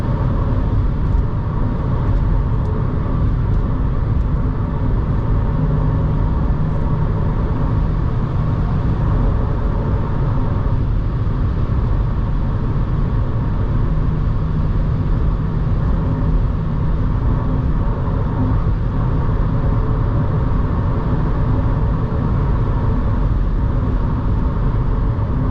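VW Up GTI 2022 with a 1.0 TSI 115 hp engine driving at speed on asphalt at night, a steady loud blend of wind rush, tyre and road noise with engine hum throughout, no speech.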